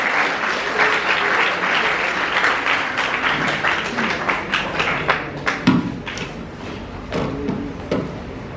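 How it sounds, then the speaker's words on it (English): A school audience of students applauds a speaker with dense, fairly close clapping that thins into louder individual claps and taps toward the end. "A huge round of applause,"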